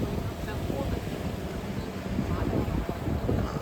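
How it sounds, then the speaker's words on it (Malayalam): A fishing boat crosses the rough Muthalappozhi estuary mouth between breakwaters, its low engine rumble blending with steady wind buffeting the microphone and the wash of waves, continuous and fairly close. "അതായത് ഒരു വള്ളം അഴിമുഖം കടന്നു വരികയാണ്."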